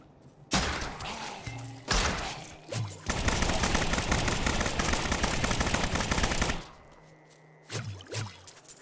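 The Demon Hunter's Rapid Fire skill in Diablo 3 lets off a sustained, loud stream of rapid shots, with several shorter bursts and thuds before and after the main barrage.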